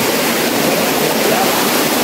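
The Los Pilares cascade, a small waterfall hidden in El Salvador, roars steadily and loudly up close, a dense unbroken rush of falling water with no voices.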